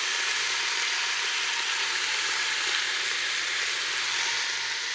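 Meat browning for pressure cooker carnitas sizzles steadily in a hot pan, a dense, even frying hiss that holds at a constant level for the whole stretch with no talking.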